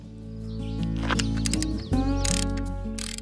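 A wrench tightens a 9/16 nut onto the stud of a TeraFlex front sway bar quick disconnect on a Jeep JL, giving close, rapid metallic ratcheting clicks over a steady tonal hum.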